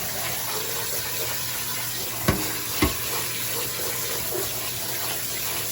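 Dry beans being rinsed under running tap water: a steady hiss of water pouring into a sink or strainer, with two brief clunks partway through and no talking.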